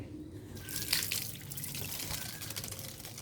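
Water trickles and drips onto the bared roots of an Ashwath tree being readied for potting in summer, a light splashing pour that runs steadily for a few seconds.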